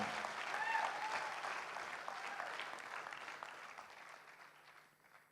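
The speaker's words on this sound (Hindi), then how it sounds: "चलो एक बार फिर उनके लिए हम तालियां बजाएं।" A crowd claps steadily, building slightly then gradually fading toward the end, moderately loud with no voices standing out.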